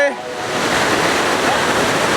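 Steady rushing water fills the whole clip, a close, loud broadband wash of a fast-flowing forest stream near its source tumbling over rocks, in Palakkad, Kerala.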